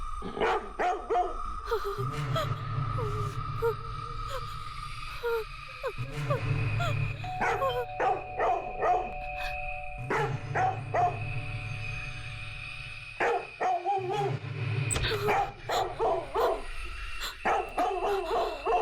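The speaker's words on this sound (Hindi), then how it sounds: "टेसी का शुरू हो गया भौंकना" A dog barks repeatedly in bursts of several loud, close woofs separated by short pauses, with some whimpering yips between, heard indoors at home while people are sleeping.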